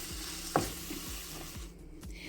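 A spoon scrapes and stirs minced meat and sour cream in a pan in a few slow, regular strokes over a quiet background sizzle.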